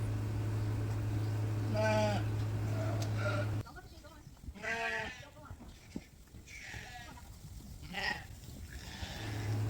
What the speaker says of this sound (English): In this group we have the January born Suffolk ewe lambs and the Dorset ewe lambs are in here as well.